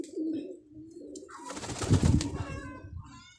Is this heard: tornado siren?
no